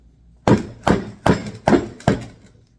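Five sharp hammer blows strike a John Deere 40/M hydraulic pump part at an even pace, each a hard clank fading quickly, close by with no talking.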